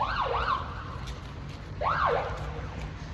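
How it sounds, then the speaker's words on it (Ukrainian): A police car siren wails past on a street, two rising and falling sweeps standing out clearly over quiet traffic hum. "Поліція їде."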